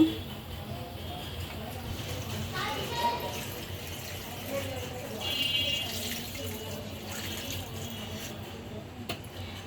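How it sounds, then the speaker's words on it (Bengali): Water pours into a pan of Peshawari-style meat and potato curry to make the gravy, a steady, moderately loud trickle and splash that runs throughout while a voice talks faintly in the background. "এখন আমি ঝোলের পানি দিয়ে দিব।"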